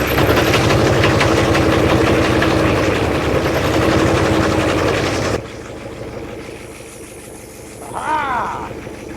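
A 1961 Chrysler 300G engine with top end trouble running roughly, a loud close rumbling idle with uneven throbbing, which cuts off abruptly partway through, leaving quieter background noise and a brief whistling rise.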